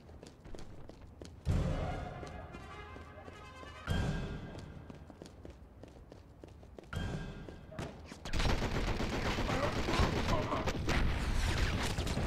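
Gunfire from the Enter the Matrix video game, with sharp bursts at intervals followed by a sustained loud barrage of rapid shots toward the end, with thuds and footstep-like impacts between.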